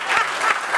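A studio audience on Réunion claps in a brief, close burst of steady applause with a few louder claps standing out.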